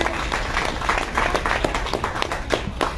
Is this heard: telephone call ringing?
no